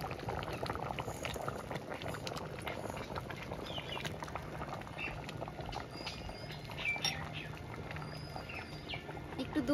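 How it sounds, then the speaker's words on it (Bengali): Pot of jackfruit and chana dal, lightly sweetened, bubbling at a steady boil close by, with a continuous soft gurgle and faint bird chirps in the background. "এটা তত সময় ফুটতে থাকুক।"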